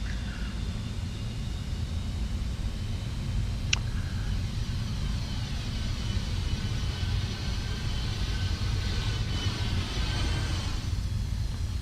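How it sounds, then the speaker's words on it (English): A Tu-95 turboprop bomber lands and rolls down the runway at an airshow, its broad, continuous engine roar staying steady and heavy for the whole stretch, heard from a distance with no talk over it. "The Tu-95 landing at runway 27."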